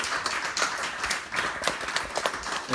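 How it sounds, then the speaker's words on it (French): Applause at a French Tech Strasbourg startup meetup greets a founder's introduction, a small crowd clapping in a lively, uneven patter with individual claps standing out close by. "On applaudit."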